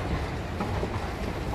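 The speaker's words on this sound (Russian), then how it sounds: "Сейчас я вам покажу, как в Испании метро." A metro train in a Spanish subway station gives a steady, loud rumble and rolling clatter that fills the whole stretch without a break. No one speaks.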